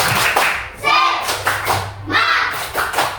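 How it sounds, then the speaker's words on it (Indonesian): A group claps together in a quick patterned rhythm, with a few thumps and children's voices mixed in, fairly close. "Kita tetap semangat ya. Tepuk semangat."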